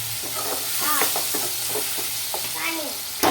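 Spinach and egg curry being cooked in a pan, with steady frying sizzle and scraping stirring strokes close up, continuous over a few seconds with no talk.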